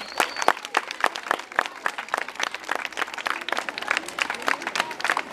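Schoolchildren and guests at a last-bell ceremony clap for the 11th grade, close, uneven individual hand claps in a loose irregular rhythm, with faint voices in the background.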